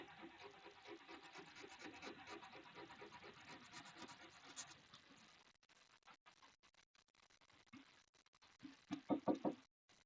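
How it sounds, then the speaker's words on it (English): Sand and sawdust are packed into a handmade craft fruit with close, continuous gritty rubbing and scraping that gives way to sparser scratches and a few sharper knocks near the end. "So let's get the sand, sawdust in there."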